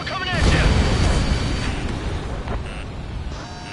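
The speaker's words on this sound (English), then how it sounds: "Missile coming at you!" Explosive booms and rumbling blasts from a missile attack during aerial combat in Ace Combat 7, loud and continuous, with a faint radio voice underneath and a rising warning tone near the start.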